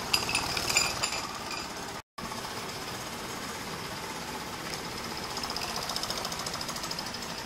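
A Mamod toy steam roller chuffs steadily with a continuous mechanical clatter and metallic clinks as a trailer is hitched on, broken by one brief cut in the sound.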